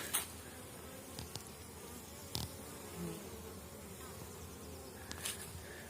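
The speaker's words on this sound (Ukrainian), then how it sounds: "Пасіка гуде." A steady, soft hum of many Carniolan honeybees buzzing at an apiary, with occasional louder passes as single bees fly close by.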